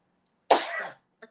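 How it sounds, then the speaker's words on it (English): A single harsh, close cough bursts out loudly from a person, lasting about half a second in otherwise quiet surroundings. "I got a cough back."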